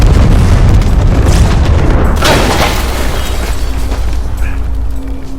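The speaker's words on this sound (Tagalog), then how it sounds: "Lubos nang uminit ang makina at kalaunan ay sumabog" A loud, heavy explosion of an overheated engine roars and then trails off into a long rumbling aftermath, with debris crackling and settling as the blast fades.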